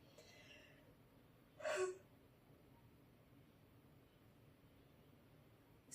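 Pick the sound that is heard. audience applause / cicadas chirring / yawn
yawn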